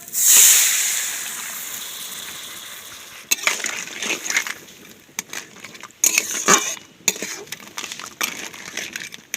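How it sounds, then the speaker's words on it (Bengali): Water poured into a hot pan of spicy crab curry with fried pond crabs sets off a loud, brief hissing sizzle, then fades into softer bubbling with sporadic scraping and clinking of utensils. "জল দিয়ে দিচ্ছি"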